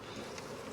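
Honey bees buzzing steadily around mating box hives being populated with emerging brood and nurse bees, a continuous close, soft drone with no voices.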